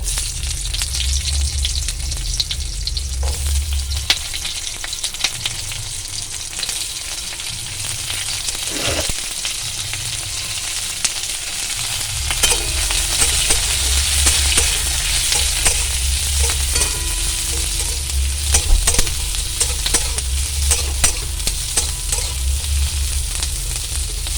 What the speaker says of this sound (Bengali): এবার কড়াইতে রসুন ফোড়ন দিয়ে আমি একটা গোটা পেঁয়াজ কেটে রেখেছিলাম, এরকম করে পেঁয়াজটাকে এবার দিয়ে দেবো